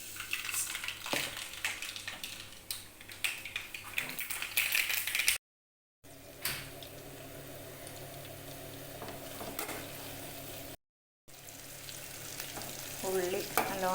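Mustard seeds and onion frying in hot oil with green chilli and curry leaves for a kappa chicken curry, a steady quiet sizzle with occasional stirring clinks, interrupted by two brief gaps.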